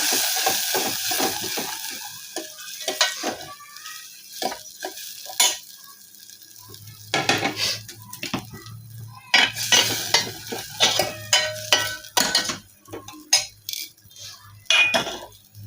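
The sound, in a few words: sautéing Kashmiri red chili, salt and turmeric in a pan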